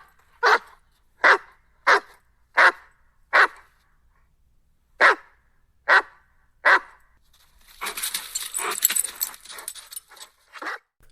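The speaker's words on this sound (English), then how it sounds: "I'm just going to have Mac bark a few times into the microphone" A dog named Mac barks close into a microphone, eight sharp separate barks at an irregular pace, followed by a few seconds of rustling, jangling handling noise.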